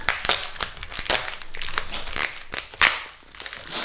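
Crinkly crunching and tearing of cardboard and packing material, close up, in irregular bursts with sharp cracks, no talking.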